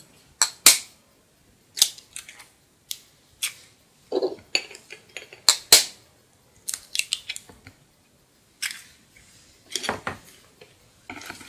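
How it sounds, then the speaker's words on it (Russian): Cottage cheese, sugar and two eggs whisked together in a bowl, heard as a series of sharp clicking and scraping strokes coming in irregular bursts, close up, with no talking. "Это все венчиком тщательно размешиваем."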